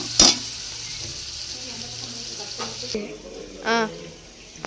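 Ginger garlic paste frying with shallots in a pot for Dindigul country chicken biryani, short sharp sizzles and spatula clatter against the pot, fairly close, with quiet talk in the background.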